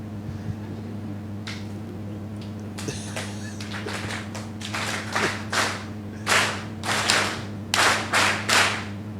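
At a political rally in Nampula, a hesitant clap or two gives way to bursts of rhythmic group clapping that grow louder and more unified, over a steady electrical hum from the sound system.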